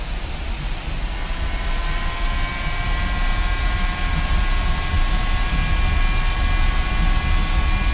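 A jet aircraft in the DCS flight simulator roars steadily through its takeoff roll, a loud, constant engine whine with a broad rushing hiss and high tonal whistles, unbroken and without speech.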